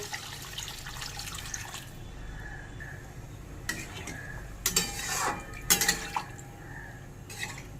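Vegetable curry with papaya for rohu fish stew being stirred in a pot after water is added, soft bubbling under a few clattering spoon-against-metal knocks and scrapes, the scrapes growing louder toward the end.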